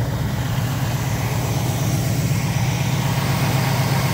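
A 1970 Pontiac Firebird Formula 400 idles steadily with a deep, even rumble, close and loud throughout with no talk.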